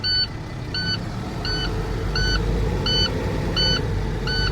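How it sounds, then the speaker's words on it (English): A car engine is held at a steady raised speed of around 1400 RPM, producing a constant low rumble. A regular electronic beep repeats over it throughout. "I'm gonna step on the gas, 100 and 400 RPMs, hold it there."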